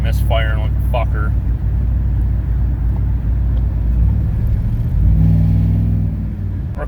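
An LS-swapped Chevrolet K1500 pickup misfires while driving, its engine rumbling loudly with uneven stumbles and a rise in pitch near the end; someone talks over it early on.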